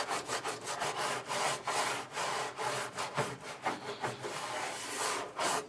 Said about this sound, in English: will go in with our medium bristle brush and try and remove the debris